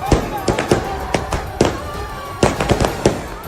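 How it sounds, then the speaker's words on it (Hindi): Fireworks set off in the middle of a street during a political rally in Lahore crackle and pop in rapid loud bursts, dense irregular bangs following one another over a noisy outdoor crowd background. "लाहौर में ही हुई एक दूसरी रैली के दौरान नवाज शरीफ के समर्थकों ने बीच सड़क पर आतिशबाजी कर दी।"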